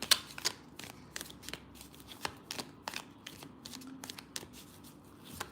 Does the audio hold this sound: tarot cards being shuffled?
yes